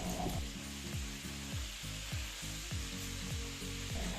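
Potatoes, tomatoes, spices and ginger paste fry in a pan for a vegetarian banana-flower dish. A constant sizzle runs under a rhythmic series of low scraping strokes, close and even.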